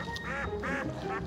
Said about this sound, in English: The neighbor's ducks are laughing at me.